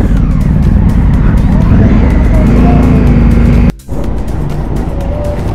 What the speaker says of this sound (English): This is the traffic scene in Cebu